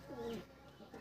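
A pigeon at a pigeon keeper's gathering gives a soft, brief coo, faint and close, with a low rising-falling warble and light background murmur.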